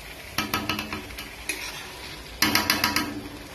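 Chicken for a spicy red chicken dish sizzles in a pan as it is sautéed and stirred, with two bursts of quick, rhythmic scraping strokes that are close and fairly loud.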